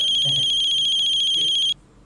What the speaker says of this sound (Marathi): काय फोन वाजला?